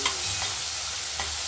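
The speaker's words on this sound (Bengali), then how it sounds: "একবারে সম্বার দিয়ে চিংড়ি মাছ ভেজে দিয়ে দেবো।" Shrimp fry in a pan with tempering spices, a dense, even crackling sizzle close by with a couple of soft stirring touches over a short stretch.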